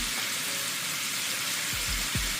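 Burger meat, still partly frozen in the middle, fries in a pot with garlic powder and salt and pepper. It sizzles steadily and loudly from start to finish, with a few low scraping knocks near the end as it is chopped and stirred.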